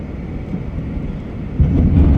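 A heavy engine rumbles loudly and steadily at close range, its deep roar swelling a notch louder near the end.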